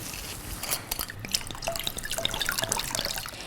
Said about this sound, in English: Now I'm going to add the water.